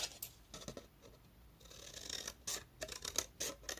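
Paper envelope snipped with scissors, a few close crisp cuts with short pauses between them, quiet and with no one speaking.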